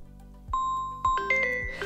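The Samsung Galaxy A13 "Galaxy Bells" ringtone chimes through a few clear, sustained tones, with new notes struck roughly every half second, bright and close with no voices.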